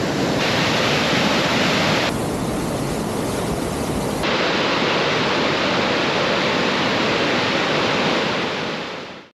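Steady, loud roar of the rushing Fraser River near Mount Robson fills the whole clip, a dense continuous wash of noise with no voices.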